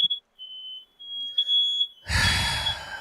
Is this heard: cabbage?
no